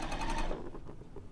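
A sewing machine stitches faux flange binding in a brief, quick rattling burst of needle strokes that slows toward the end, close by.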